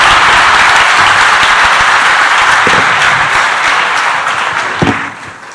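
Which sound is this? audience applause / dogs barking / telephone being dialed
audience applause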